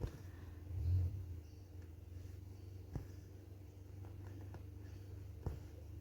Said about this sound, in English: There is a car that drives up and down.